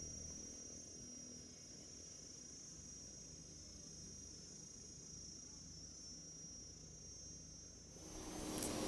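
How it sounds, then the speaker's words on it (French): Crickets chirp steadily at night in a village in Laos, a constant high insect trill over a low background hum, with a brief louder rustle near the end. "accueillis par les grillons"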